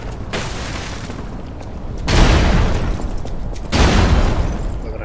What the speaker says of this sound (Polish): Dobra, miny też wybuchają po czasie.